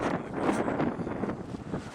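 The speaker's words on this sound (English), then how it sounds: "Oh, now it's windy too." Wind gusting steadily outdoors in the aftermath of a blizzard, a broad rushing roar that buffets the microphone, swelling and easing continuously throughout with no voices.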